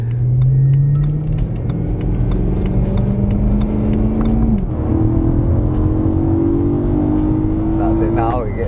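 BMW M3 Competition engine revving with a throttle blip, a loud rising drone with a brief dip and climb as the revs change, heard from inside under talk.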